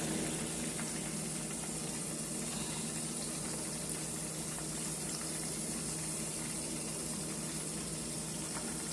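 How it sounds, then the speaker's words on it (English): A steady, continuous sizzle of chicken wings frying in hot grease in a lidded pan, close and even throughout with no pauses or voices. "See how better it's frying now that I added the lid."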